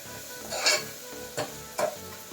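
Fenugreek leaves and tomatoes are stirred in a frying pan, with a soft steady sizzle beneath a few brief scraping strokes of the spoon, close and fairly quiet.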